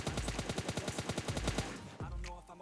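Rapid gunfire in PUBG Mobile Lite, a dense burst of about twenty evenly spaced shots over two seconds, then a final louder shot with ringing echo.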